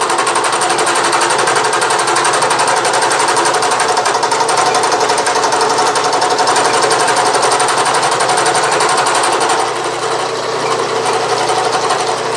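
A Bridgeport mill cutter cutting gear teeth by direct indexing, a loud, steady, continuous machining whine and chatter that runs close and uninterrupted, easing slightly near the end, with no talk.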